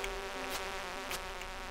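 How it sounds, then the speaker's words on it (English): Buzzing bug enemies in the farming game Stardew Valley give a steady, loud electronic drone that hums continuously under the game's background sound, with brief brighter swells. "I hate these bugs so much"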